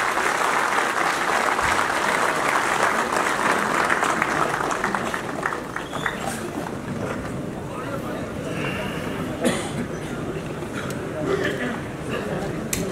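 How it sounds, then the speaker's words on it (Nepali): An audience at a hall welcome event claps together for the arriving Prime Minister, a dense sustained round of applause that gradually thins, with voices heard alongside. "म उहाँलाई स्वागत गरेर ताली पिटेर"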